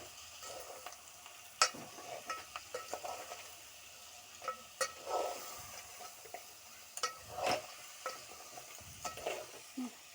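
Crabs seasoned with salt and chilli fry in hot oil in a pan for crab curry, giving a steady sizzle under repeated scraping stirs and occasional clinks of the spoon against the pan, close and without talk.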